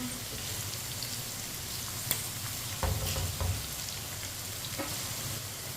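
Besan bhindi, okra coated in gram flour, frying in a pan with a steady soft sizzle and crackle, broken by a few brief stirring clatters and taps.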